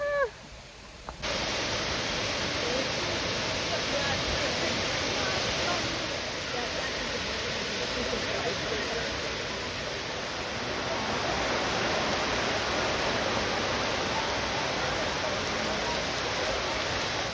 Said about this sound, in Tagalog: Umulan ng bonggang-bongga.